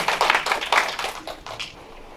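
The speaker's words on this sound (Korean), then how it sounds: "뜨거운 박수 부탁드려요" Audience applause at the start of a lecture on resource-circulation society at a citizens' environmental school, heard as a short burst of scattered, irregular hand claps that thins out over about two seconds.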